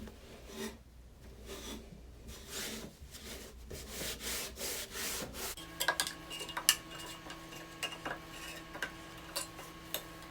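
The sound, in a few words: wiping down a wooden shelf with a microfiber cloth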